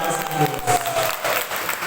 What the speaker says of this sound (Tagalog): huwag niyong pigilin yung palakpak niyo sa Panginoon